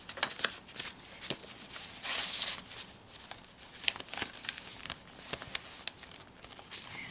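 Sheets of journal paper, graph paper and cardstock are handled up close, with soft rustles, crinkles and flicks in an irregular rhythm and a few sharper taps, and no one speaks.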